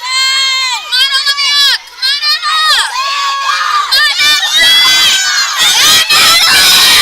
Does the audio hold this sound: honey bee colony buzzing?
no